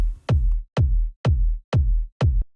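Layered kick drum, a Buried Kick topped with the Chaos Kick transient, struck five times at an even pace; each hit is punchy and deep with a short booming tail, heard alone.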